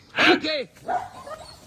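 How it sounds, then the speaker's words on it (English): A Jack Russell terrier barks a few times in a played-back video. The barks are fairly close and mixed with a short spoken word. "The most dangerous dog there is the Jack Russell."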